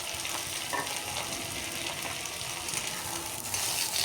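Onion and potatoes frying with panch phoron in a pan, a loud, steady sizzle with stirring scrapes, close and continuous, no talk.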